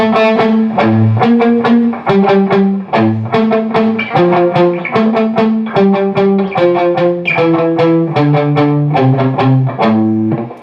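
An electric guitar plays a steady picked riff from a song with repeated bass-string hits, stepping down through notes in a walk-down, loud and clear with no voices.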